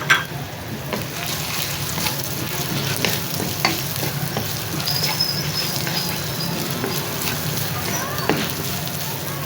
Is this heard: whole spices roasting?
yes